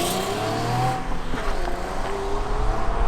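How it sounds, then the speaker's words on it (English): A 2008 Infiniti G37S pulls away at night, its engine note steady and fairly loud as it drives off, with a faint tire hiss running throughout the few seconds. "there she goes. So that was a 2008 Infiniti G37S."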